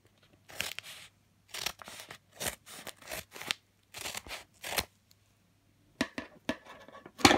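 Scissors snipping through packaging while unboxing a parcel from Denmark, a series of short crisp cutting and crinkling bursts with pauses between, close and fairly quiet.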